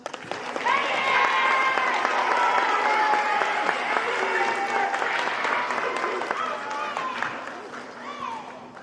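Sustained applause from a crowd at a sixth grade school awards assembly, steady dense clapping for several seconds with voices mixed in, gradually tapering off.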